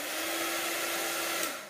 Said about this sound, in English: I also need to have a heat embossing tool, and this is sometimes called a heat gun.